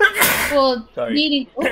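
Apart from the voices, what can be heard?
sneeze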